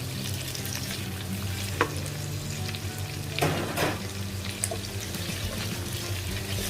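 Squid balls and shrimp frying in a stir-fry pan for a celery stir-fry, giving off a steady close sizzle with a few brief clinks and bursts of spattering.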